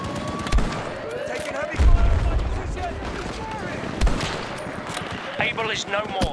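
Rapid gunfire and explosions from a World War II-style Rush match in Battlefield 2042 crackle in dense, overlapping bursts, with heavier booms near two and four seconds and voices speaking over the battle.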